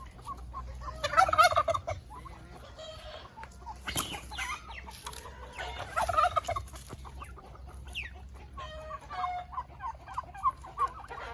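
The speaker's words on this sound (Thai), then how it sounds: "ดูความน่ารักของไก่งวงตัวผู้นะคะ" Male turkeys gobble in three loud, rattling bursts spaced a few seconds apart, close by, with softer clucks and farmyard fowl noise between them.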